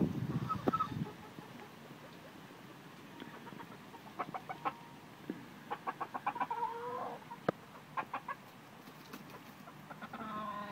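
Chickens cluck in a series of short, bursty calls, some close and some farther off, scattered irregularly over a quiet outdoor background with a muffled thump at the start.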